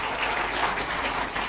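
An audience claps steadily at an Indonesian political gathering honoring the PAN party chairman, a brief, fairly distant wash of applause with no talking.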